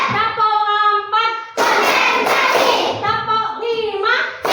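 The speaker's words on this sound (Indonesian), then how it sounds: "Tepuk sebelum belajar." A primary school class claps hands together in a counting routine, with sharp bursts of group clapping between children's chanting voices.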